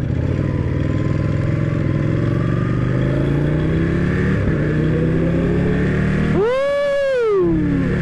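Motorbikes on a touring ride in Bali hold a steady, loud engine drone, then one bike revs up sharply near the end with a rising, swooping whine before it fades off.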